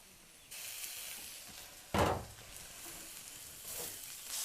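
Bread cooking in a covered pan gives a soft, steady sizzle and hiss, with one brief louder crackling burst midway and a little rise near the end, and no talk over it.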